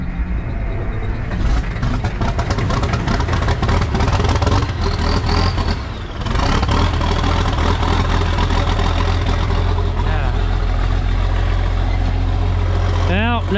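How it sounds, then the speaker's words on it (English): A cold UniSystem corn picker tractor engine cranks and catches, then settles into a loud, steady idle close by, with a voice talking over it at times. "You know, I'm starting a tractor."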